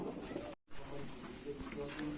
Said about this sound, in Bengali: এখন আপনাদের একটা জর্চা পায়রা দেখাচ্ছি।